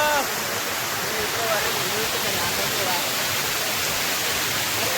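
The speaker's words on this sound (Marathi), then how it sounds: "मस्त पैकी स्वच्छ पाणी आपलं वाहताना दिसतंय" Clean river water rushes past in steady, dense flow, a loud continuous wash close by that sounds like a stream or cascade, with rain falling in the surroundings.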